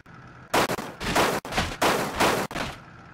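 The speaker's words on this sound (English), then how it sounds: "It's shooting bullets." Loud, close bursts of gunfire from a weapon in BeamNG Drive, several sustained volleys of rapid shots separated by brief gaps, no talking over them.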